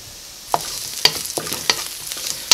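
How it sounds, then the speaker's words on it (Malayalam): Onions frying in a pan while making rava uppumavu, with a steady soft sizzle broken by several sharp scraping stir strokes at irregular intervals, close and moderately loud, no voices. "ഇപ്പോൾ സവോളയ്ക്ക് ഒന്ന് നന്നായിട്ടൊന്ന് മുരിഞ്ഞ് വന്നിട്ടുണ്ട്"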